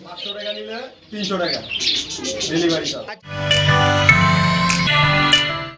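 Pigeons and other caged birds at a sale collection chirp and call in a dense, bright chorus that grows louder partway through, with people talking over the first half.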